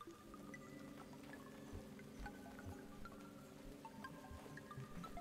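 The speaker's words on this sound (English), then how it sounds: "there's the little bubbling." Soft, small water bubbling in the video game Superbrothers Sword & Sworcery, a gentle liquid gurgle with light taps sitting under sustained tonal game music.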